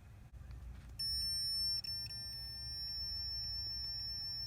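A steady, high electronic tone from a multimeter continuity test beeps continuously for several seconds, clear and unbroken after a soft click at the start, while checking a Toyota Corolla blower motor circuit.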